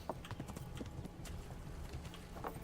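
Horse hooves clip-clop in a steady quick rhythm in the video game Kingdom Come: Deliverance, fairly faint, with a few soft thuds mixed in.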